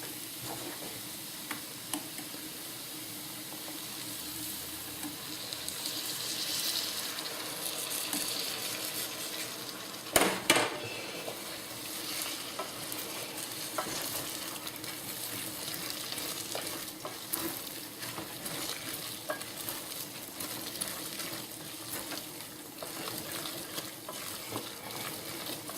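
Flour roux for cream of celery soup cooking in a pan, a steady soft sizzle with occasional stirring scrapes and one sharper clatter partway through.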